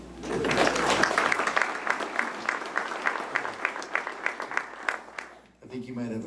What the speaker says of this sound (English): folks, round of applause for Mr. Fruit.